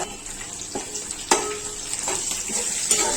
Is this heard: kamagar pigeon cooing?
no